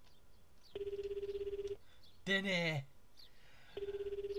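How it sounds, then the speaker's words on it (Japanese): PHS handset ringing in the video game Kita e White Illumination, two clear electronic ring bursts separated by a short spoken remark, fairly quiet. "これ PHS ちょっとターニャに電話かけて"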